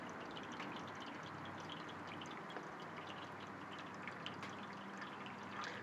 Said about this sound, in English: You just open your lid, pour the water in it, and it's good to go.